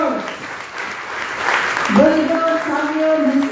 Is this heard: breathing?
no